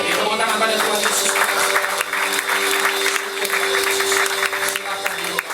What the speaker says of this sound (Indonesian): Tepuk tangan pada Tuhan Yesus